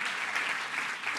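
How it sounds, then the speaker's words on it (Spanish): Church congregation applauding during a sermon, a dense, even wash of clapping from many hands held steady through the moment, with no one speaking. "Miren, llevan 3 aplausos ya."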